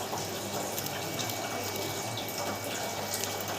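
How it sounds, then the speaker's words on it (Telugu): Water pours steadily onto a bar of homemade sunnipindi soap as a continuous, close hiss and splash that lasts the whole few seconds without a break. "కొంచెం వాటర్ వేసి చూపిస్తాను"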